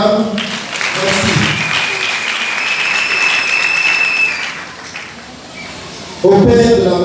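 Sustained applause from the congregation at a religious wedding ceremony, a dense wash of clapping with cheering voices, loud and close, fading slightly before a voice speaks at the end.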